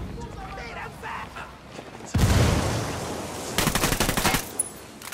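Bursts of automatic gunfire from the tactical shooter Ghost Recon Wildlands, with a loud rapid volley after a quieter stretch and then a second stuttering burst, heard alongside game background noise.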